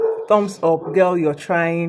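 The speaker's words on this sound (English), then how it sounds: "Oh, sorry about my dog." A dog gives short whining yelps and bark-like cries in quick bursts, close and loud, while a person talks over them.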